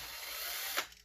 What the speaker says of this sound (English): I'm just drilling it out right here real quick.